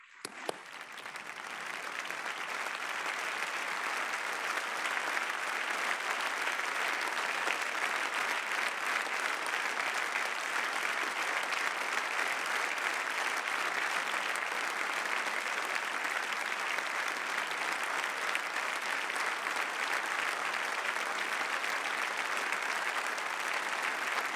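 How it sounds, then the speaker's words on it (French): A French parliamentary chamber gives sustained, even applause in tribute to the Ukrainian people, a dense wall of clapping from a large crowd that starts abruptly and holds steady for over twenty seconds with no talk. "que nous nous levions et applaudissions afin de rendre hommage au courage du peuple ukrainien et de vous-même"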